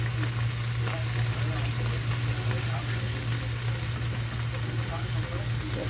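Caponata of eggplant with balsamic vinegar is stirred in a hot pan, a continuous dense sizzle and scraping over a steady low hum, loud and close throughout.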